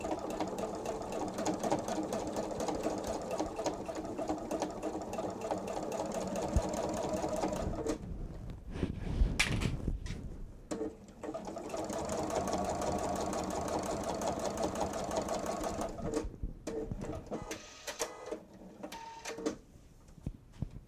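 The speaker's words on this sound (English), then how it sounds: "I'm going to do one more stitch over the elastic." A sewing machine stitches over elastic on a fabric wallet with a rapid, close mechanical rattle, running in two long bursts separated by a short pause with handling noise.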